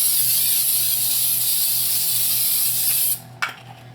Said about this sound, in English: all you need to do now is spray the wax paper itself